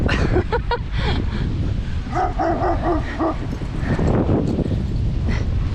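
A dog barks several times near a rocky stream, a quick burst of sharp barks followed by a run of softer, whining yips over steady flowing water.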